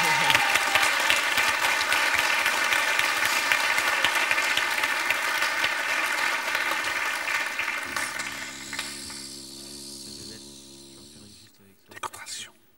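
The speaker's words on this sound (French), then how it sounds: "Il sait sourire, on l'applaudit." Studio audience applause on a French television game show, a dense steady burst of clapping that holds loud for about eight seconds, then thins into softer scattered claps and fades, with a brief voice near the end.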